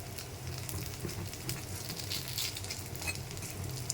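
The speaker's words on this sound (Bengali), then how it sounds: "এই দেখুন শব্দ হচ্ছে, মানে ভাজা হয়ে গেছে টাটকা করে।" Battered flower fritters fry in hot oil with a steady, crackling sizzle that stays close and fairly soft, and no voices over it.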